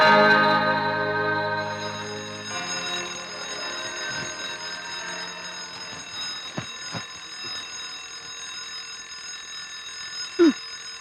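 An electronic alarm rings loudly with a steady, tonal pattern for a couple of seconds, then fades into a quiet room with a few soft knocks.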